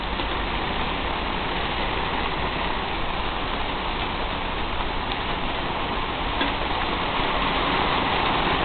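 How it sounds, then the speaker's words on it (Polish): Dense, steady pattering of hail striking a garden plot in Lublin in late May, a continuous rough hiss with no voices. "Grad w środku maja, praktycznie po koniec maja."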